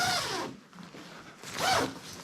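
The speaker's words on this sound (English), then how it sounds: "It only has 1 zipper." A single zipper on a Kelty Ashcroft 3 tent's rain fly is drawn open in two short rasping pulls with a pause between, close and fairly quiet, with no talking.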